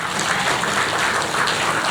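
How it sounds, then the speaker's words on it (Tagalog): Dense, continuous applause from a church congregation, a loud, unbroken wash of many hands clapping at once with no individual claps standing out, filling the whole moment without any voices on top. "Lakasan niyo yung palakpak sa gitna."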